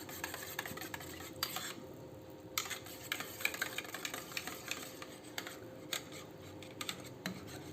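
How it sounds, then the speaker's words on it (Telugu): Curd stirred smoothly in a bowl with a spoon for ragi ambali: faint, repeated soft scraping and rubbing strokes at a steady pace, close by, with no one talking. "దాన్ని ఏమీ ఉండలు లేకుండా బాగా నీట్గా కాసేపు మిక్స్ చేసుకుందాం."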